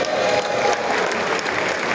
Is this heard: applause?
yes